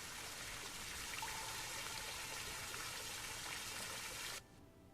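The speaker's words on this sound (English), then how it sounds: "that was a loud waterfall" Loud, steady rush of a waterfall echoing inside the Broken Echo silver mine in Shroud of the Avatar, a dense continuous wash of falling water that cuts off abruptly near the end.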